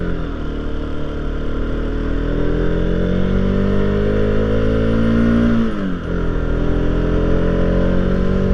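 Bajaj Pulsar RS200 motorcycle engine climbing a ramp, a loud, steady drone rising gradually in pitch, then a brief dip as a gear changes before the engine pulls on, close with no talk.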